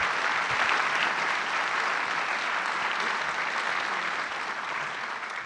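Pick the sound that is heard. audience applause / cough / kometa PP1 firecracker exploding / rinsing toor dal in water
audience applause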